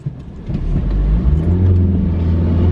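From inside a moving car, a low engine hum and road rumble fill the cabin and build slightly as the car accelerates, steady and fairly loud, with no voices.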